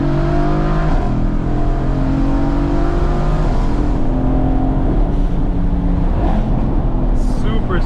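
A tuned 2017 Mercedes-AMG GT with upgraded turbos pulls hard from inside the cabin, its engine note climbing through rising gears with shifts between them, loud and close under occasional talk.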